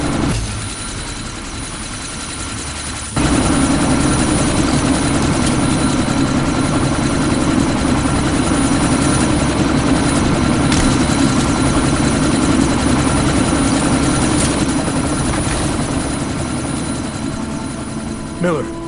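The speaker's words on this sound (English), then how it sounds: "That chopper's about to take off!" A helicopter in the Deus Ex video game sits ready to take off, its rotor and engine kicking in loudly after a few seconds and holding a steady throbbing drone, with voices talking over it.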